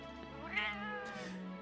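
A cat character in Arknights' Monster Hunter crossover lets out a single drawn-out, whiny meow with a rising then falling pitch, fairly quiet and alone.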